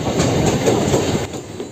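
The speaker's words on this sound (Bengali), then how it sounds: "ব্যারাকপুর স্টেশনে আমাদের ট্রেনটা কিন্তু ইতিমধ্যে ঢুকছে" A local MEMU train pulling into Barrackpore station rumbles close by with rhythmic clattering of wheels on rails, loud and continuous, easing slightly toward the end.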